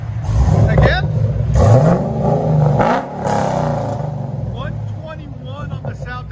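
Cadillac CTS-V with an aftermarket exhaust revving hard, loud close rumbling bursts that rise and fall over several seconds, with people talking over and between the revs.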